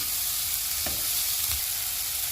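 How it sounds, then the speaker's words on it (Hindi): Onions and tomatoes fry in a pan, giving a faint, steady sizzle broken by a couple of soft stirring knocks. "प्याज को हम 2 मिनट तक फ्राई करेंगे"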